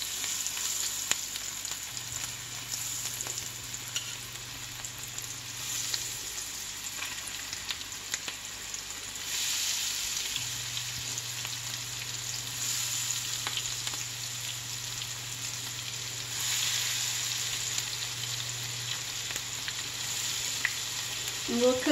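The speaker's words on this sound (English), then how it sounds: "Let's drop an onion in and see what happens." Onions frying in hot oil in batches until golden and crispy for a keto green bean casserole, a steady close sizzle hissing throughout with no talking, swelling slightly louder in a few stretches.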